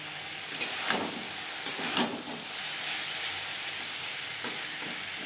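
Bottle gourd peel and flat beans frying in a pan over a high-to-medium gas flame, a steady soft sizzle with a few brief stirring scrapes and clinks, close and fairly quiet, no talking.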